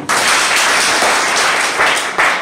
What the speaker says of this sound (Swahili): Tumpigie Mungu makofi.